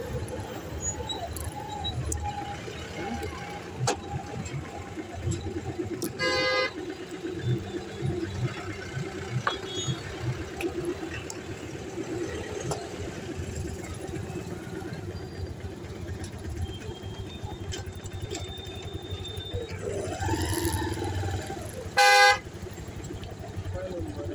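A small Chhota Hathi goods truck used to carry goods for a village fair runs with a low, steady engine rumble under ongoing talk, broken by two short horn toots, one early and one near the end.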